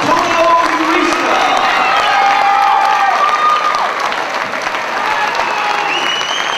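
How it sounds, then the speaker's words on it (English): At an amateur Golden Gloves boxing match, a crowd applauds and cheers steadily for the two fighters, a dense, loud wash of clapping with scattered shouts and voices throughout. "cheer for Javon Connors and Antonio Urista"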